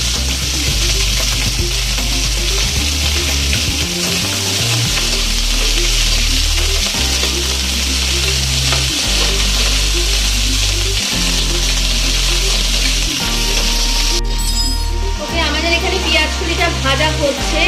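Onion stalks fry in hot oil for a tilapia curry, a loud, steady, close sizzle that runs without pause, with a few stirring scrapes and a low rhythmic background pattern beneath it.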